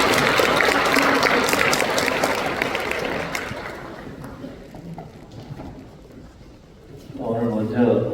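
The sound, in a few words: congregation applauding to welcome the pastor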